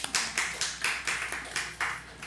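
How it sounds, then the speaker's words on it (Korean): A church congregation claps together in church, a quick run of about ten loud, evenly spaced beats filling the room with no talk over it. "우리 박수 한번 치죠."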